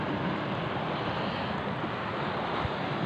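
Sea waves washing continuously onto a rocky shore at low tide, a steady loud broadband surf roar mixed with wind buffeting, with no pauses and no voices.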